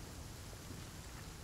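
Steady rain hisses in the video game The Flame in the Flood, a dense, even wash of falling water with a soft low rumble underneath, continuous and fairly quiet with no one talking.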